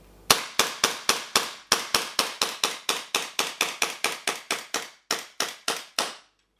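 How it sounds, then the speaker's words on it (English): A Secutor Magna CO2 pistol fired rapidly into a box, around twenty sharp, close cracks in a fast, fairly even string with a brief pause near the end, no talking. "I'm going to whack a load of rounds into this box."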